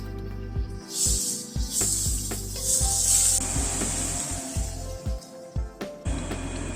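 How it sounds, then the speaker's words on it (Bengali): Finely chopped onions frying in hot oil, a soft hiss and sizzle with bursts of spitting, broken by intermittent scraping and stirring knocks, close and moderately loud with no one talking. "পেঁয়াজটাকে এবার আগে ভেজে নিচ্ছি।"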